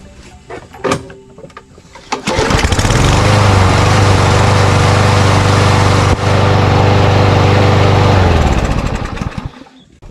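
A Briggs & Stratton 550ex push mower engine, fitted with an automatic choke, has a few clatters before it fires, revs up and runs loudly and steadily for several seconds, then winds down near the end.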